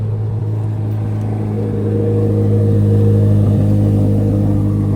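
A supercar engine brought to life by remote start settles into a loud, steady idle with a deep droning hum and a slight swell partway through, close by and with no talk over it.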